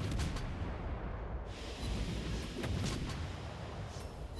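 Destroyer guns firing in a naval combat video game, a steady stream of dense, rumbling booms and blasts with a few sharper reports, loud and continuous throughout.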